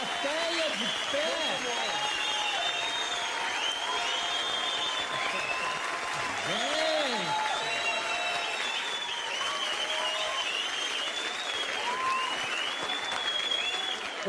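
A television talk-show studio audience on its feet giving a standing ovation, loud sustained applause filling the room steadily throughout, with some cheering on top.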